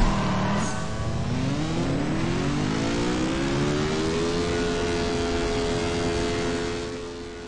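A racing car engine in a video game race revs steadily upward, its rising whine loud and close, then it holds a sustained high drone before easing off at the end.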